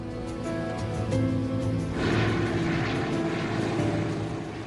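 Propeller airliner engines run up to takeoff power, a steady loud drone with tonal hum that swells into a fuller roar about two seconds in.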